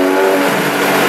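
A 2015 Porsche 911 GT3 powers along a track, its engine droning loud and steady under acceleration for a brief moment, no voices.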